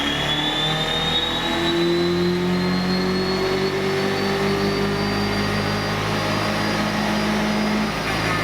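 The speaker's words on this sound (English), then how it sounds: "they just dynoed the car in third gear instead of fourth" Car engine on a chassis dyno held in third gear, a loud steady drone with a pitch that climbs slowly as it revs up, continuous and close throughout.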